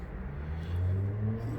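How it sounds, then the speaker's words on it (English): Steady rumble of cars and vehicles passing on a major road near a drill press workshop, swelling louder midway through as a vehicle goes by, with no talk. "sorry for the traffic noise"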